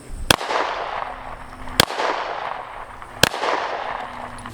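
A PSA Dagger 9mm-style handgun fires 115 grain hollow point rounds at a target. Three sharp, loud single shots come about one and a half seconds apart, each followed by a ringing echo that fades out.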